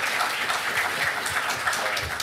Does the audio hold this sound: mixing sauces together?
no